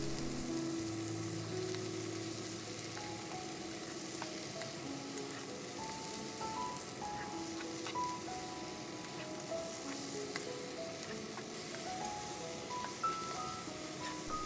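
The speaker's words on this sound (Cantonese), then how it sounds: "黃豆醬大概備1湯匙，放落去之後炒香醬料" Soybean paste sauce stir-fried in a wok for braised pork ribs with white radish, a steady close sizzle with faint scraping and scattered clinks, no talk.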